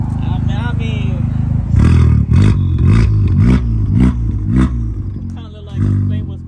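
A 2021 Honda Civic Type R engine with exhaust silencers revs repeatedly in short rumbling bursts with a throaty exhaust note, while someone talks over it.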